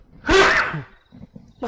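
A single loud sneeze bursts out, sharp and close, followed by a short breath and faint rustling afterward.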